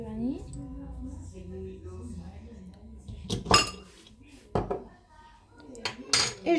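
A utensil stirs beaten egg and vanilla flavouring in a bowl for an apricot almond tart, giving a few sharp clinks against the bowl over a soft background murmur, with close scraping taps clustered near the end.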